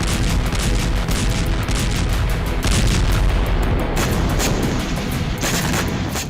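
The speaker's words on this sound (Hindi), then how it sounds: "जहां बीती रात जबरदस्त विस्फोट देखा गया।" Loud, continuous blasting and rumbling with dense crackling bursts, like heavy gunfire and explosions running throughout without pause, from a night attack in Lviv, Ukraine.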